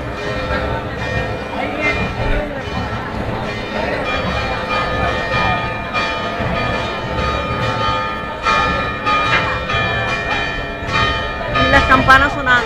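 Church bells at the Realejos Alto church in Los Realejos ring loud and continuous during romería preparations, with layered clanging peals and faint crowd noise beneath, growing busier toward the end.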